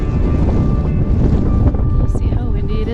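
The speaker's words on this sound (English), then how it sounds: "See how windy it is?" Strong gusty wind buffeting the microphone on a snowy Bryce Canyon trail, loud, continuous roaring noise with no pause.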